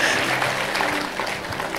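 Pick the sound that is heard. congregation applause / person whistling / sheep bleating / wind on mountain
congregation applause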